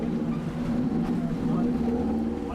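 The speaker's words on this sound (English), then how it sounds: "At the dive site, the captain revs the boat's engines." A dive boat's engines rumble with a low, steady drone, rising slightly as the captain revs them at a shark dive site, with faint voices underneath.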